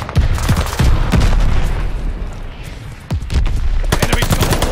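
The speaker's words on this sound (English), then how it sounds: "Allied mortar fire coming!" Mortar fire and heavy gunfire in Call of Duty Vanguard multiplayer, loud repeated booms and rattling bursts rolling continuously under shouted in-game voices.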